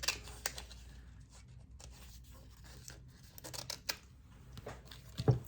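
Paper being snipped with scissors while making a mixed media tag, several quiet crisp cuts and rustles spread across a faint, close, otherwise quiet table setting.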